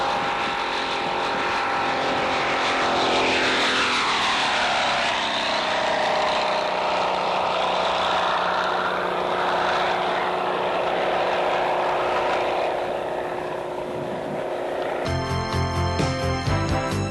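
A propeller airplane flying in formation over the hills of Chino Valley, California drones steadily, its engine pitch sweeping and shifting as it passes, loud and continuous with no voices.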